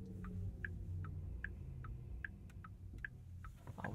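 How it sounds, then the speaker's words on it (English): Porsche Taycan rear-wheel-drive turn signal ticking from inside the cabin, a soft, delicate, regular series of about a dozen clicks over a low hum. "And turn signal sound."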